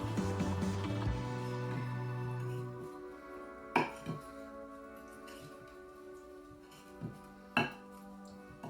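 Kitchen knife cutting salad vegetables into bite-sized pieces, a few sparse, quiet taps and knocks on a board after a fading ringing tone at the start.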